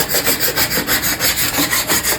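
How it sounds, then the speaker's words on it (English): Rhythmic rasping of an orbital sander on a wooden desk, a fast, even back-and-forth scrub repeating without pause, loud and close. "sanding all this with the orbital sander"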